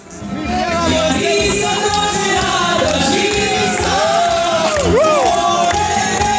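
A crowd cheers and celebrates at a Zvezde Granda show taping, with loud, continuous shouting, whoops and excited voices throughout, close and dense.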